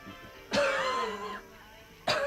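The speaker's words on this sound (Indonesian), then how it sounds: "Batuk kucing." Two sharp, loud bursts roughly a second and a half apart, like coughs or throat clearing, with a raspy tonal rasp lingering after the first.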